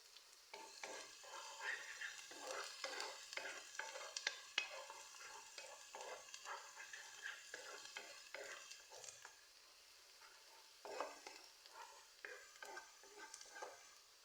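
Garlic and onion sizzle steadily in a pan while being stirred, with repeated scraping strokes and a brief pause in the middle, moderately close, no voices.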